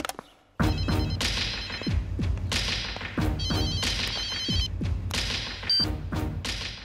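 A telephone rings in repeated bright bursts over heavy thumps and dramatic crashing music, with no voices.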